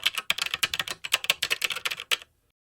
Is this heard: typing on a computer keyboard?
yes